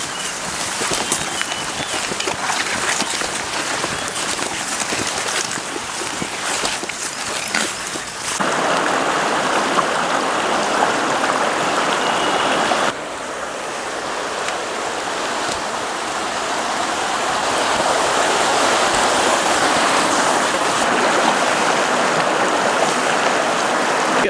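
A river flowing beside a winter campsite in India on a freezing night, a steady broadband rush of water that grows brighter and louder partway through and continues without a break.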